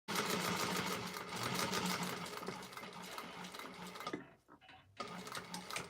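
A sewing machine runs steadily while stitching the interior of a clutch wallet around a card slot, its rapid mechanical chatter continuous and close for most of the stretch, then pausing briefly before starting up again.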